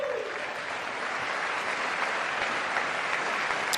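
An audience applauding during the State of the Union address, sustained even clapping from a large crowd in a big hall, steady and continuous throughout.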